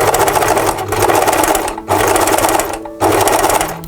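A sewing machine stitches elastic onto a fabric jar cover in close, loud rapid bursts, pausing briefly twice between runs of steady whirring.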